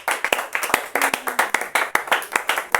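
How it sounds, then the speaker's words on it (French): A church congregation claps in a quick, even rhythm, loud and close, with sharp hand claps repeating steadily throughout and a brief vocal tone behind them. "Acclame pour le roi."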